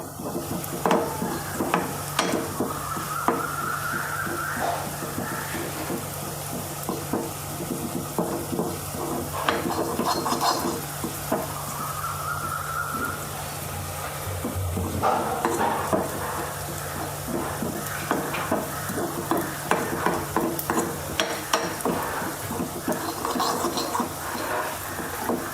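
Spice powders frying and being stirred in a clay pot for a stingray curry, a steady close sizzle with repeated scraping and clinking of a spoon against the pot.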